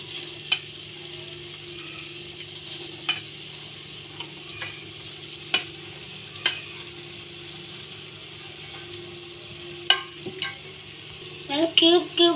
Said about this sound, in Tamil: நிறையா மிக்ஸ் பண்ணி விட்டுக்கோங்க. இதே மாதிரி மிக்ஸ் பண்ணிக்கோங்க விட்டுக்கோங்க.